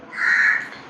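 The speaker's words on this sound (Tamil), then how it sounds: "என்னமோ காக்கா சொல்ல வருது, நமக்கு மெசேஜே இருக்கு" A single crow gives one short, clear caw, close and alone without other sounds.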